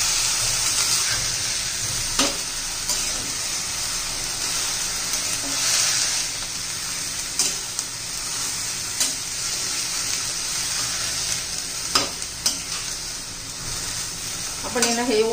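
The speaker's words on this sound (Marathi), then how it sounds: "व्यवस्थित मिक्स करून घेऊया" Colourful mixed cabbage vegetables are tossed and stirred in a hot pan, with a steady, loud sizzle and intermittent scraping strokes running throughout at close range.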